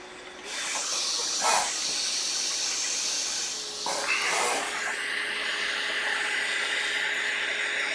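Hot air from a large nozzle rushes in a steady, close hiss while melting solder during a Nintendo Switch charging port repair, with brief surges and shifts in airflow and a faint tonal hum.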